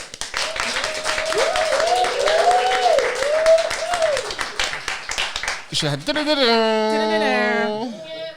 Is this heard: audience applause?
yes